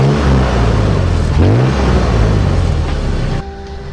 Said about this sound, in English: It's basically a dump exhaust, and it's been a good exhaust. It's kind of loud.